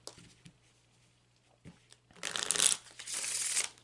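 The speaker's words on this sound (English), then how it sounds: "So I'm shuffling that intention into the cards." A deck of Lenormand cards is riffled and shuffled close up, with a few soft taps first, then a long rushing flutter of cards.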